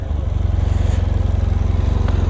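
A 2017 BMW F800R motorcycle on its stock exhaust runs with a steady, fairly subdued low engine throb close by, holding an even idle-like rumble with no voices.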